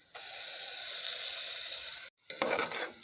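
Ground mint paste for pulao sizzles loudly in hot oil in a pan, a steady crackling hiss that stops abruptly, then returns for a brief burst of stirring and spitting; no voices.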